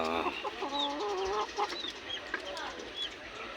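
Backyard chickens cluck and chicks peep nearby, with short bursts of clucking and a few thin high cheeps over outdoor ambience.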